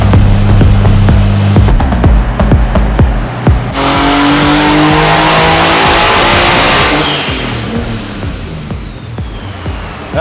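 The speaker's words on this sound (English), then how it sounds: "Sounds like there's a lot going on in that engine, but it all sounds healthy so far." A turbocharged project car engine, long abandoned and now being tuned, revs loudly and close through a full pull toward 7,000 RPM, its pitch climbing steadily and then falling away as the throttle closes, with no talk over it.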